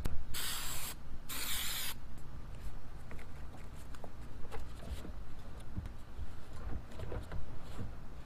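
Two bursts of spray adhesive hissing from an aerosol can while padding a used kayak seat, then quieter handling noises and light taps.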